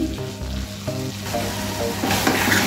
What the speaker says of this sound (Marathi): आता आपण त्याच्यामध्ये मगाशी जी फ्राय केलेली मेथी आहे ती घालून घेऊया व्यवस्थित अशी